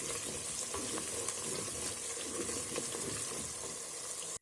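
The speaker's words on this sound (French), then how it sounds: "Je vais remuer encore le tout." Rice with chicken, dried fish pieces and anise gets stirred in a cooking pot, a steady soft sizzle and wet scraping churn, close and continuous, with no talking.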